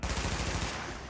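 Gunfire in the shooter game The Division 2: a quick rattling volley of rapid shots, loud and close, lasting about a second before cutting off.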